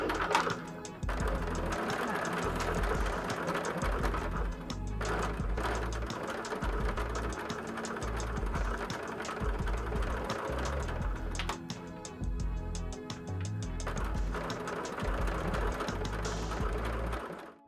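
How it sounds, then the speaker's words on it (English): A sewing machine with an open toe foot stitches rickrack trim onto a fabric book cover, running in a steady loud mechanical whir with brief pauses between stretches of stitching. "I'm using an open toe foot to still stitch it all together with"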